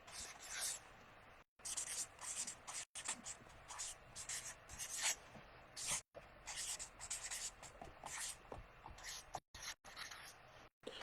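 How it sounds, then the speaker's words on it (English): A pen writes an email address on paper in scratchy, rubbing strokes broken by brief pauses, close and quiet, continuing for about ten seconds. "So let me write my PayPal email address here."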